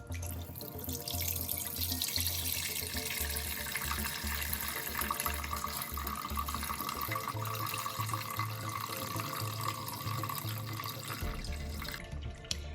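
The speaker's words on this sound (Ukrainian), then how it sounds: "Тепер беру ось таку кришку з дірочками, закриваю і буду зливати розсіл." Pickle brine drained from jars of cucumbers through a lid with holes, a steady, loud rushing pour of liquid that runs continuously and stops at the very end.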